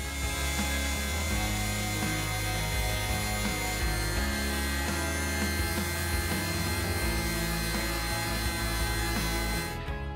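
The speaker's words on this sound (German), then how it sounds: "Zum Abschluss schleife ich alle Flächen mit der Feinschwinge." An orbital sander runs with a steady, continuous whir and scrape across surfaces at close range, constant in level without pauses.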